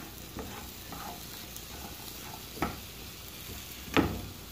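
Sliced cucumber and green chilies frying in a pan, a steady soft sizzle under scraping stirs from a utensil, with a few sharper scrapes and clacks against the pan, close and moderate in level, no voices.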